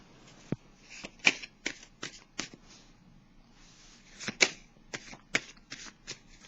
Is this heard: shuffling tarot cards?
yes